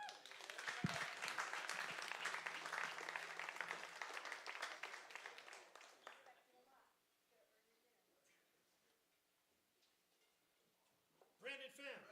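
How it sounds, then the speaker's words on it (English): Audience applause for a live jazz trio's musicians fills the first six seconds, loud and dense, then fades to a quiet room; a brief burst of clapping returns near the end. "So I want you to give a warm round of applause for Brandon when he comes up, and also for Maddox"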